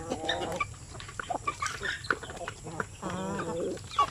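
A hen clucking and cackling after laying an egg on a poultry farm, a series of close, uneven squawks with other farm birds and a voice talking over parts of it.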